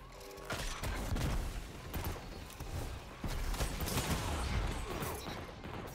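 A grenade explodes in Destiny 2 PvP gameplay, one of several loud, dense bursts among game gunfire and mechanical clatter.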